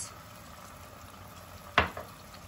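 A soft, constant sizzle of cooking oil frying in a hot pan, broken by one sharp clatter near the end.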